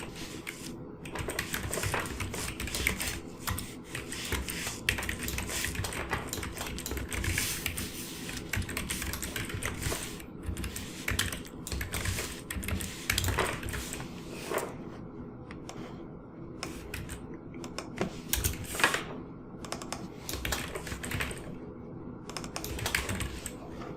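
A computer keyboard being typed on while programming code, with rapid, uneven bursts of close keystroke clicks and short pauses, carrying on steadily with no voices.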